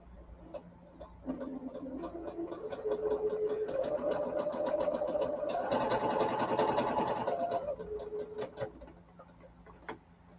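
A sewing machine stitches fabric blocks together, its fast, even mechanical chatter running for several seconds, swelling slightly and then stopping, heard close by.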